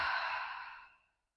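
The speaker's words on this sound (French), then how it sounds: "On expire bouche ouverte." A single long, breathy exhale through an open mouth during a yoga breathing practice, close and soft, fading smoothly to silence after about a second.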